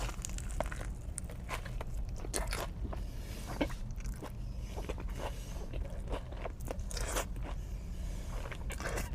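A fried mozzarella stick is bitten and crunched close up in a crunchy mukbang, giving repeated crisp crackles and chewing over a steady low background for about nine seconds, with no talking.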